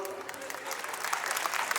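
Brief burst of audience applause at a Malayalam mimicry stage show, dense and fairly distant, with voices mixed in under the clapping.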